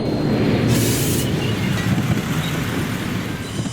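In a horror audio drama, a train effect plays as a loud, steady low rumble with a brief bright hissing burst near the start, continuing evenly throughout.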